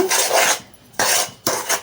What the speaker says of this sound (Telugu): ఇది మొత్తం కలుపుకోవాలి